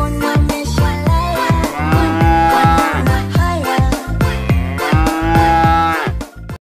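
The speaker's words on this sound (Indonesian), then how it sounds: "ternyata ini sapi" A black and white dairy cow moos in a cartoon farm scene, a series of loud, close, drawn-out lows repeating rhythmically with pitch swoops throughout.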